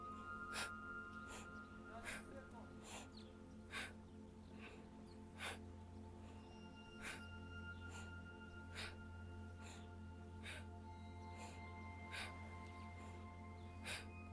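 Sharp, forceful nasal exhalations repeat at a steady pulse during kapalabhati yoga breathing combined with spinal twists, each snort-like puff standing out over a constant low hum and faint background tones.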